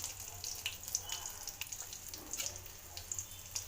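Garlic frying in hot oil in a home kitchen, a steady soft sizzle with light crackling pops running throughout the short stretch, fairly quiet and with no voices.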